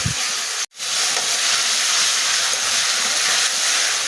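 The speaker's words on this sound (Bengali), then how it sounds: "আদা রসুন পেঁয়াজ পাতা একসঙ্গে দিয়ে দেব এটা আমি সুন্দর করে কষিয়ে নেব" Ginger, garlic and onion sizzle steadily in hot oil in a pan, a dense, continuous frying hiss broken by a brief dropout near the start, with no talking.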